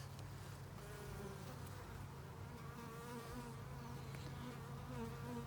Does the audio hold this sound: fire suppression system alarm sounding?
no